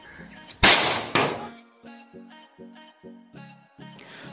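A single sharp, loud bang with a crackling burst as match-head powder wrapped in foil explodes on impact, followed by a series of shorter tonal beeps or clanks at a steady pace.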